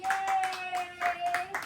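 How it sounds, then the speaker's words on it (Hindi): A family group claps hands together during a playful truth-or-dare game at home, a lively patter of overlapping claps with a steady tonal hum beneath. "चलो भाई तालियां हो जाए"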